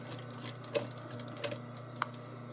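A sewing machine backstitches along a rip in stretchy fabric at a quarter-inch seam. Quiet, steady stitching runs throughout, with a few sharper clicks and taps punctuating it.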